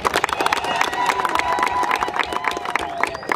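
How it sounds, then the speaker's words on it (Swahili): A crowd applauds at an Uhuru Torch ceremony in Morogoro municipality, with dense, steady clapping and some cheering and voices mixed in throughout. "Pigeni makofi."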